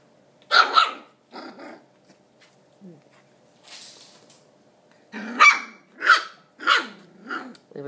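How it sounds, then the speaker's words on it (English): Five-week-old puppies tussle in play, giving yips, short barks and growls in scattered bursts, some close and loud, others softer. "having our puppy tussles"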